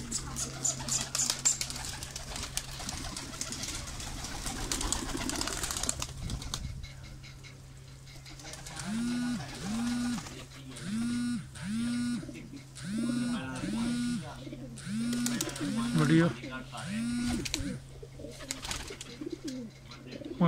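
Pigeons on a rooftop coo in repeated soft low calls and burst into wing-flapping, a busy stretch of cooing and flutters following a noisier opening, with a steady hum underneath and some voices at times.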